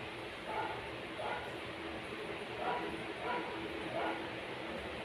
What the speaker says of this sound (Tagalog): Kala mo napakalaking aso mo talaga